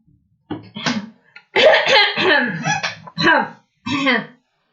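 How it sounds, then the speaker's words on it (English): A man clears his throat, close and loud: a series of short, rough, voiced rasps and grunts with brief pauses between them, no words. "that was just me clearing my throat because I had some stuff in my throat."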